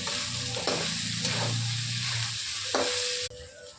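Corn kernels frying in a pan with salt added, a steady close sizzle with a couple of stirring scrapes of a spatula against the pan, continuous until it cuts off near the end.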